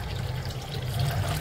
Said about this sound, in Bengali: তার আগে ছোলাটার জলটা পাল্টাই